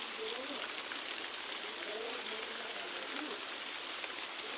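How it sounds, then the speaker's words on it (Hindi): Heavy monsoon rain pours down at a hill-country homestay, a dense even hiss of water like a rushing stream, with a voice talking faintly beneath it. "और बारिश तो देखिए भाई झमाझम लगे ही जा रही है"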